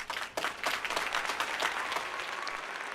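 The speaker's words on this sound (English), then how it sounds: "Let's get an applause for you guys." A small studio audience at a comedy talk show claps steadily for a few seconds, a moderate burst of applause starting abruptly and continuing with some louder individual claps, no talk over it.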